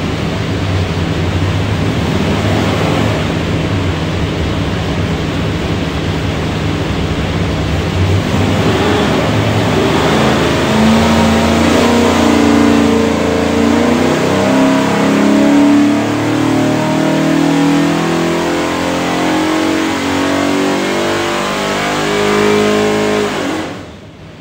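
Ford 347 cubic-inch stroker V8 from a 1992 Fox Body Mustang running on a dyno, roaring loud and close as it holds steady and then sweeps upward in revs through a long sustained pull before easing off.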